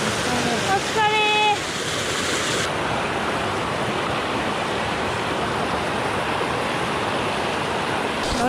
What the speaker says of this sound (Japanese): ああおお川だ。